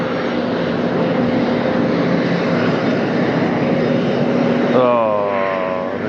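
A turbojet airliner lands in gusty crosswind conditions at Las Vegas, giving a loud, continuous engine roar heard from a distance. Tones shift near the end as the engine sound changes pitch, and a voice talks over it.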